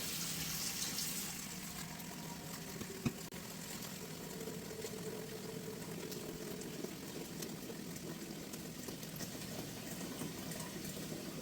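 Steady rushing water pours into a pot, a continuous hissing splash with a faint ringing tone as it fills.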